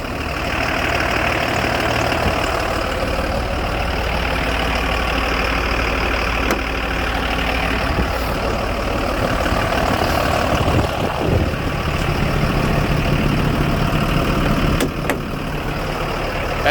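A truck engine idles steadily and loudly up close, a continuous low rumble with a faint knocking texture that holds unchanged throughout.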